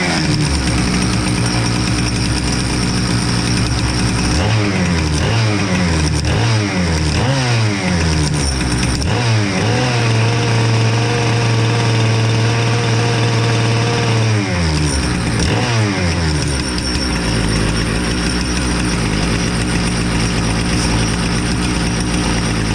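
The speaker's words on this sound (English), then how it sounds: "we're going to start this thing up and see if the saw is actually pumping oil or not" A Husqvarna 455 chainsaw pulls over with several quick starter cranks, then catches and runs, revving up and settling into a steady loud idle before revving again, close and with no talk.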